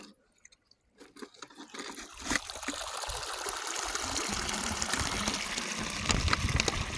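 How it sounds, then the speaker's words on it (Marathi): Water rushes into an irrigation channel. The flow rises from near silence into a steady, broad, loud gushing roar that continues to the end, with no voices. "पाटाला पाणी आलेलं आहे जोरात"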